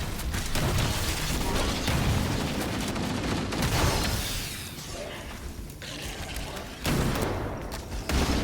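Repeated shotgun blasts from Halo: Combat Evolved, loud dense bursts with heavy low-end booms recurring through the stretch, mixed with game effects and background action.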